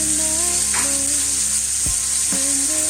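Rib eye steaks sizzle loudly and continuously in a hot pan over medium heat, a steady bright hiss with a couple of faint knocks as the pan is handled.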